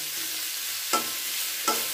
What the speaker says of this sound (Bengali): এটা বেশ কিছুক্ষণ এটাকে ভালো করে ভাজা ভাজা করে নিচ্ছি